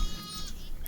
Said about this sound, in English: Alice is the sheep that has the collar with that tag hanging down from it.